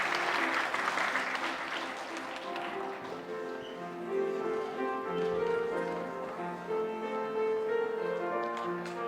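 A church congregation claps together in sustained applause during a Sunday worship service, steady and even, with some voices audible beneath.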